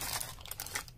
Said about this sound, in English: we're just going to take it and rip it